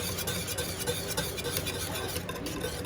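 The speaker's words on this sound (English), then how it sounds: "keep whisking" Whisking ingredients in a bowl while making a large family breakfast gives a steady, fast, rhythmic scraping and swishing that runs unbroken from start to finish at moderate volume.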